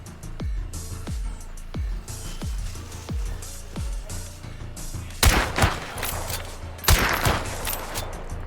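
Video game gunfire in a hunt-and-exterminate match: a regular run of sharp single shots in the first half, then two loud, dense bursts of rapid fire, close and with no talk over them.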